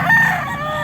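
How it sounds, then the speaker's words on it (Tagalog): A red gamecock rooster at a Batangas fighting-cock sale crows once, loud and close, a single sustained cry filling the whole moment. "Ganda ng manok ni sir."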